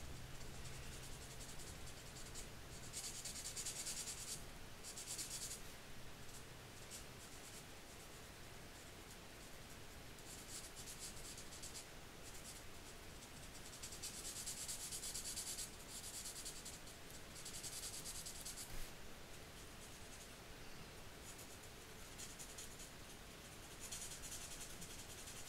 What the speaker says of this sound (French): Je vais colorier tout le biberon en gris.